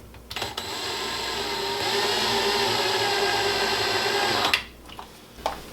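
A power tool drives a screw into a pantry rollout slide unit, whirring steadily for several seconds with short bursts before and after as the trigger stops and restarts, close and fairly loud.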